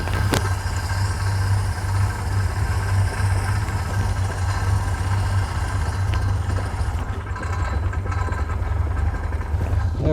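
An old car engine idles roughly while over-choked, a steady loud low rumble with a faint clattering edge and a sharp click near the start, with no voices.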